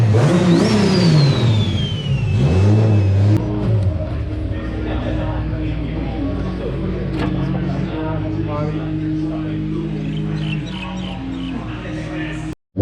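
A tuned R33 with a built 550 hp RB25DET engine and screamer pipes revs hard and loud nearby, a high whine sweeping up and down, then settles into a steady rumbling idle.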